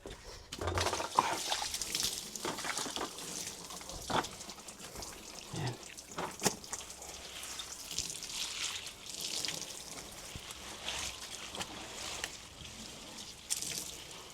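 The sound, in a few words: water used for cleaning on a farm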